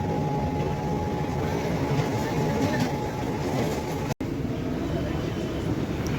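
A Mumbai local train rumbles steadily while pulling into Andheri station, a loud continuous close roar of wheels and carriage noise heard from inside, with one sharp momentary dropout near the end.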